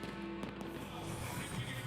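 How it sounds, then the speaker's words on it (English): New Year fireworks over London at the turn of 2014, heard as a dense, continuous wash of distant bursts and crackle at steady loudness, with faint crowd noise beneath. "And there they are, the fireworks in London as the world celebrates 2014."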